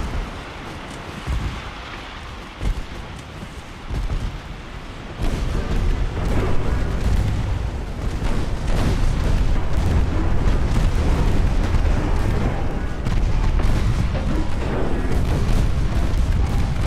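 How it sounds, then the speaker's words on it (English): Naval gunfire in a warship battle in Ultimate Admiral Dreadnoughts, a video game: scattered booms at first, then a dense continuous roar of rapid firing and explosions that grows louder and stays heavy to the end. "It's the 1-inch guns."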